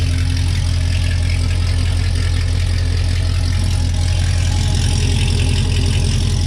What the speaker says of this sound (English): it's definitely way louder. It sounds good, though. It actually sounds good at idle.